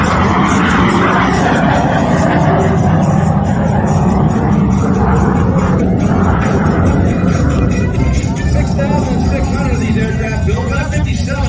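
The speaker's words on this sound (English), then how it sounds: "the T-33 that you see flying before you today." A T-33 jet flies at an airshow in Columbus, Mississippi, with a loud, steady engine roar washing over the field throughout while an announcer talks over it.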